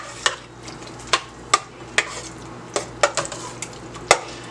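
Spices, clove and allspice, are stirred into a pot of creamy rice pudding, with a spoon clicking and scraping against the pot in irregular sharp taps over a low, quiet background hum.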